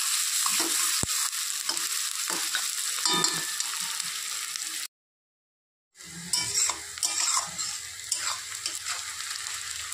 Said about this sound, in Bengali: এখন পেঁয়াজটা একটু আমি লাল লাল করে নেব।